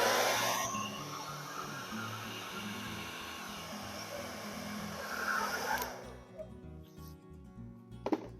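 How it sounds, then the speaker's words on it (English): Air blown hard across wet acrylic paint on a small canvas during a Dutch pour, a steady breathy rushing that holds loud for about six seconds, then cuts off to near quiet with a few small knocks. "I think I'm going to blow one more time this direction."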